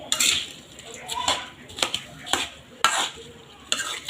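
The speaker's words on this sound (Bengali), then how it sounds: "আমি চামচ দিয়েই মাখিয়ে নিচ্ছি" A spoon mixes rice with mustard oil in a rural kitchen, making several distinct scraping and clinking strokes against the dish, close and fairly loud over a soft background.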